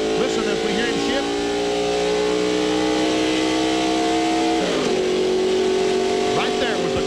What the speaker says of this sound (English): Once again, we're talking about shifting gear. Listen, as we hear him shift.